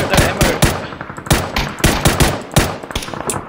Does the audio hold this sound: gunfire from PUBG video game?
yes